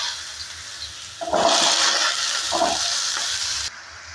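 Cut potatoes drop into hot oil with nigella seeds and set off a sudden burst of sizzling and hissing. It starts after a quiet moment, stays loud and close, then cuts off abruptly.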